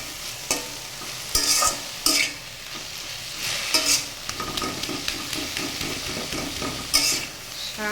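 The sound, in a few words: stirring jute leaf greens frying in a pan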